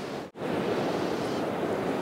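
Sea surf rushes steadily at a shallow UK beach, a broad, loud wash of breaking waves with heavy wind buffeting on the microphone and a brief dropout near the start.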